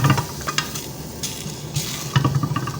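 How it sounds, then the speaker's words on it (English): Steady sizzling of meat frying in a hot pan, with occasional stirring scrapes and clinks, close and moderately loud. "Allow the pork to get brown"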